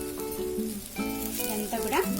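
Ivy gourd (tindora) pieces coated in chili powder fry in a pan, a steady sizzle running under a voice with occasional stirring.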